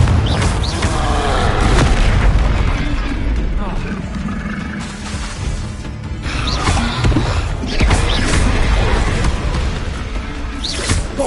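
Bombarda blasting spell from Hogwarts Legacy sets off loud, booming explosions in repeated bursts amid combat noise, with a voice speaking over the blasts.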